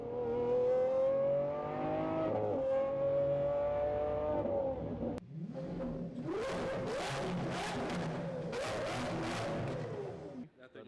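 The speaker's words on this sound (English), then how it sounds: "This is a straight pipes Lamborghini Aventador SV" A loud, throaty Lamborghini Aventador SV with straight-pipe exhaust drones at steady revs, then roars through a series of hard, rasping throttle blips and accelerations, close up.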